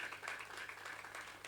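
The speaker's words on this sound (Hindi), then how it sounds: "उसके आने की खुशी में ताली बजाओ" An audience at a Sindhi satsang claps to welcome a saint, a faint, brief patter of many hands clapping from a distance, without any voices.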